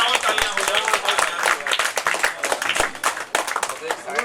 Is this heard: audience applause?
yes